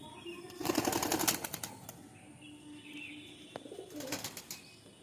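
Domestic pigeons at a pigeon seller's loft in Howrah, Sankrail, give soft cooing calls with brief bursts of wing flapping, fairly close but faint.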